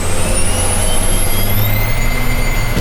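A Cummins diesel swapped into a 1978 Ford Ranger spools up, a loud, close engine drone with a rising turbo whistle that climbs in pitch and holds steady.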